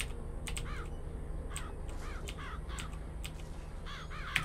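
Swarm of crows summoned by the Murder of Crows vigor in BioShock Infinite, harsh repeated caws bursting in quick clusters over a steady low game hum, no talking.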